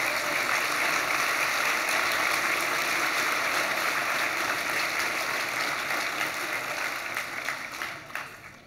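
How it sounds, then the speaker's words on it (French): An audience applauds at a French political rally, a dense, sustained wash of clapping that holds steady and then thins and fades toward the end. "vous pouvez les applaudir"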